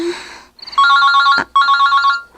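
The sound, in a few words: cellphone ringing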